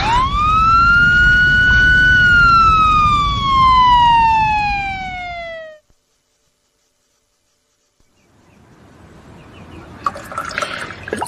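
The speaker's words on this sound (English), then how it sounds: "The ambulance is coming." Ambulance siren wails loud and close for nearly six seconds in a single sweeping tone, then cuts off abruptly into silence before faint, scattered rustling background noise returns.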